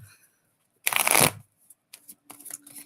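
Tarot cards shuffled close by during a reading, one dense papery riffle burst followed by softer scattered card taps and slides, no talking.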